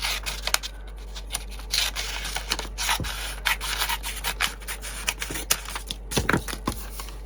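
Sandpaper rubs against wood in a crafting session, giving close, quiet scratchy strokes in an irregular rhythm with small pauses between passes.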